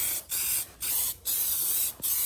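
Plasti Dip aerosol coating sprays onto car wheels in four steady hissing bursts of roughly half a second each, separated by brief pauses, close and loud with no talking.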